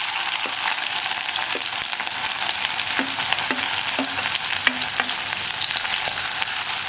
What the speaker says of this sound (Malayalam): ഇപ്പോൾ നമ്മുടെ കടുക് പൊട്ടിക്കഴിഞ്ഞിട്ടുണ്ട്. നമുക്കിതിലേക്ക് ചതച്ച് വെച്ചിരിക്കുന്ന ഉള്ളി ചേർക്കാം.